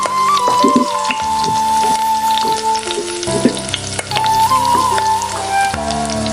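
Garlic sizzling and frying in a pan alongside tomatoes for a cucumber, tomato and onion chutney, a steady crackling hiss with occasional stirring scrapes, close and loud throughout with no talking.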